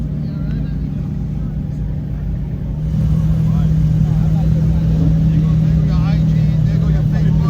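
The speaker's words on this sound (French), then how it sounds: "La SV vient de démarrer, même couleur que la Huracan juste devant" A Lamborghini SV supercar engine fires up at a New York charity supercar gathering, the level jumping into a steady, loud, low rumble that continues under people talking nearby.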